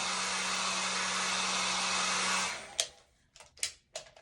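A blow dryer running during a wig install roars steadily at close range, then cuts off abruptly, leaving a few clicks and handling noises.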